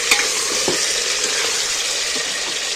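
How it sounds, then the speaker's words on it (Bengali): Chicken pieces frying and being stirred in hot oil, a loud close sizzle with scraping turns and occasional clinks of the spatula against the pan throughout. "গরম তেলের মধ্যে আমি এই মাংসগুলো এক তুলে দিচ্ছি তেলটার মধ্যে নাড়াচাড়া করে মাংসটা একটু ভাজবে তেলের মধ্যে"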